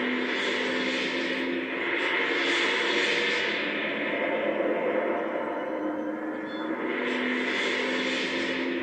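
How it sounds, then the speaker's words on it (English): A drone in the video game Astral Chain hovers nearby, giving off a steady, loud mechanical buzzing drone that holds for several seconds with slight swells in intensity. "The drone's following me."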